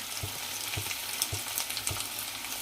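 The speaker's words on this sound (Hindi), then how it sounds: "अच्छे से कर लेंगे फ्राई 2 मिनट तक।" Freshly pounded spice masala with asafoetida fries in a pan, a constant close hiss of hot oil with soft, regular scraping strokes of a spatula about twice a second, no voices.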